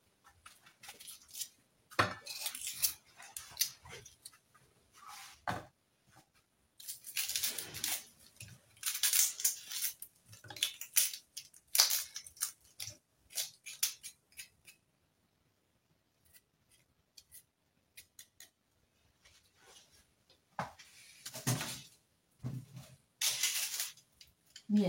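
A knife slices through onions in short, crisp cuts that come in bursts with quiet gaps between them, close and fairly faint.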